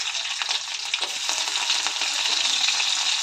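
Finely chopped green chillies fry in hot oil with mustard seeds and cumin, a steady dense sizzle with sharper crackles and pops running throughout, close and loud, with no talk.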